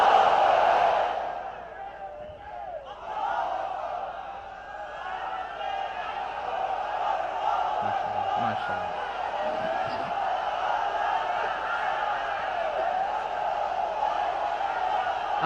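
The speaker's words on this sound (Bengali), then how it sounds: "তাকবীর পড়ুন, লিল্লাহে তাকবীর।" A large crowd at an outdoor Quran tafsir mahfil on Chittagong's Parade Ground chants the takbir in unison, a loud, sustained roar of many voices that swells, dips, then holds steady.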